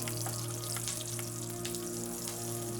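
Slit green chilies drop into hot oil in a pan for South Indian coconut rice, crackling and sizzling steadily with scattered sharp pops over a constant low kitchen hum.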